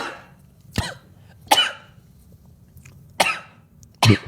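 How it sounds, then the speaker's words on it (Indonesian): Someone coughs several times in short, separate bursts, fairly close, with quiet pauses between each cough. "jadi batuk."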